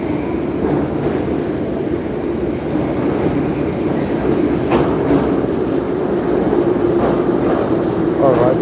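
Steady rumbling and rattling fill the interior of a moving train, with continuous loud roar, occasional clacks and squeaks from the carriage, and faint voices murmuring beneath.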